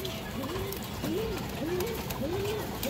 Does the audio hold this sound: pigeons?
yes